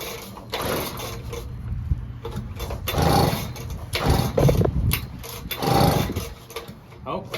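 A two-stroke engine with a replaced fuel system tries to start on half choke, sounding as several rough, sputtering bursts of cranking and brief firing separated by short pauses, with a person talking in between.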